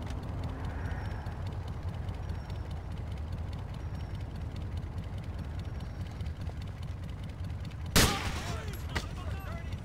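Police gunfire in GTA IV with the LCPDFR mod: a low, steady rumble of city ambience and a soft, rapid patter, then one sharp, loud crack near the end with a brief echoing tail.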